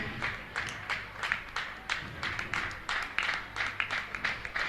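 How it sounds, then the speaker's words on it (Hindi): An audience at a religious gathering claps steadily in repeated rhythmic bursts, sustained applause heard at a distance without voices over it. "आपकी तालियां लगातार बजते रहें।"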